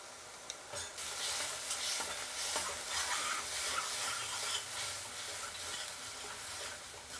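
Masala frying in a pan and stirred continuously, a steady close sizzle with scraping strokes of a spoon running through it, no voices.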